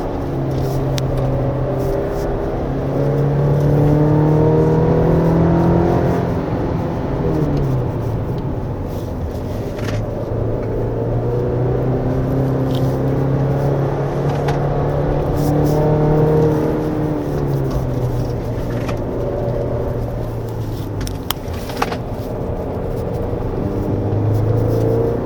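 A 2025 Chevrolet Colorado Z71 pickup drives a winding mountain road, its engine droning steadily from inside the cabin and rising and falling in pitch as it shifts down through the gears.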